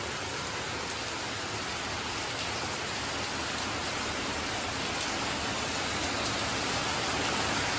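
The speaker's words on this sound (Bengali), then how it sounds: "বাইরে বৃষ্টি ঝমঝমিয়ে নেমেছে আজকে" Heavy rain pours steadily outside, a dense, even hiss of drops drumming on surfaces that stays loud and unbroken throughout, with no voices.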